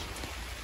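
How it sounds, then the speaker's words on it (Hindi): Soft, steady patter of light rain in Jaipur, a continuous gentle hiss with no voices. "जयपुर में बारिश भाई धीरे आ रही है"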